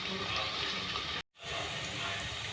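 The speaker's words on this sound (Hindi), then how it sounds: "देखिए प्याज फ्राई हो रही है हमारी" Onions sizzling in hot oil in a pan for achar gosht, a dense continuous hiss and crackle close up, broken by a brief gap of silence.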